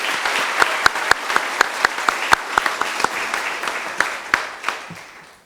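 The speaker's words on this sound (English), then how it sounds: "Let's all give her a big round of applause." Applause at a college commencement ceremony, an online military college's graduation, with a few sharp, distinct hand claps rising above a softer crowd patter and fading toward the end.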